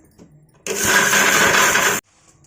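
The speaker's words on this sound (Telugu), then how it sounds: "రెండోసారి చింతపండు వేసి మిక్సీ కొట్టుకోవాలి" A kitchen mixer grinder grinding tamarind bursts on loudly, runs in a harsh steady whir for just over a second, then cuts off abruptly.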